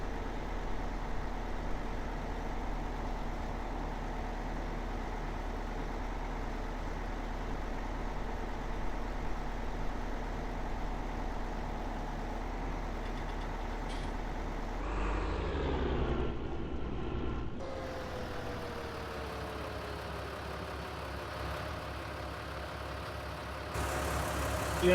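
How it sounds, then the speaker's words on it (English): A farm tractor engine in Farming Simulator 19 drones steadily under load, a low continuous rumble that shifts in pitch and tone partway through before settling again. "See how this tractor runs a little bit once it's under load also."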